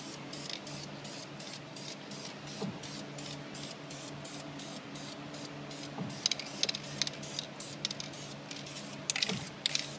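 An aerosol can spray-paints the engine compartment of a 1972 Ford Mustang Mach 1 black, with close hissing bursts repeated in a quick steady rhythm and a few sharper rattles near the end.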